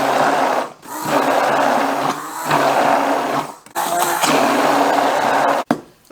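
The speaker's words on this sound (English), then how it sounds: "it's okay to make an up and down motion with the blender and finish emulsifying" An immersion blender whirs steadily as it emulsifies homemade mayonnaise, loud and close, with a few brief dips and one sharp cutoff near the end as the blender is lifted and lowered.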